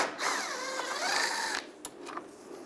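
A T30 socket driver backs a screw out of the radiator on a 1999-2005 Volkswagen Jetta with a steady whirring mechanical buzz that wavers in pitch for about a second and a half. It is close and fairly loud, followed by a few faint clicks.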